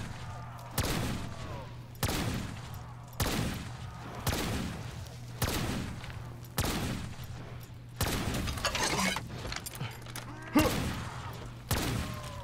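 Gunfire from a zombies-mode video game map: repeated loud bursts of shots about every second, each ending in a short mechanical clatter, over a low steady hum.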